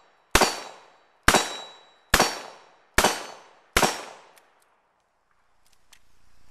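Five loud police revolver shots from a 1960s–80s service gun, evenly spaced about a second apart, each a sharp crack with a ringing decay, then quiet with faint distant rumble.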